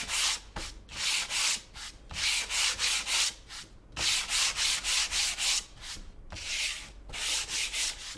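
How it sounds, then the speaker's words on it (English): Rhythmic back-and-forth rasping of a sanding block on painted wood, strokes in quick bursts with brief pauses between sets, close and clear. "You can go into your sanding block after you"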